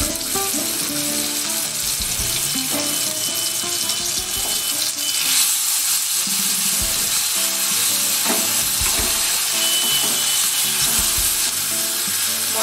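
Ground cumin, ginger and green chili paste sizzling in hot oil with whole spices for a vegetarian raw-banana curry, a steady close crackling fry with occasional stirring scrapes throughout and no talk.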